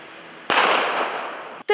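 A smoke grenade goes off: a sudden sharp bang bursts out after quiet, followed by a loud hissing rush that slowly fades, then another abrupt pop at the end.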